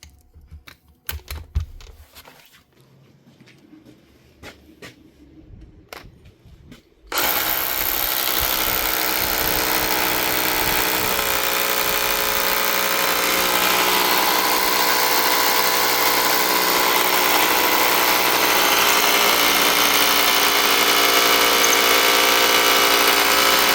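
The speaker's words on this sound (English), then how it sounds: "Give her a wee test here now. Make sure she's drilling and she's no longer slipping." A rare Makita BHR262 36V cordless rotary hammer drill, repaired with salvaged parts, starts after a few seconds of quiet handling clicks and then runs loud and steady for about sixteen seconds, close up.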